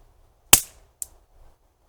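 A single sharp shot from a Gamo AF-10 air pistol cracks out, followed half a second later by a quick metallic tick, then quiet.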